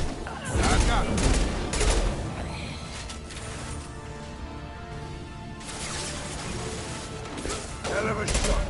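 Gunfire from the video game Mass Effect 2: dense bursts of shots and impacts, loud at the start and again near the end, with a quieter stretch of combat noise between.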